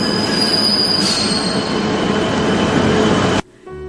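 A train running on rails, wheels squealing loudly and continuously close by, before the sound cuts off abruptly near the end.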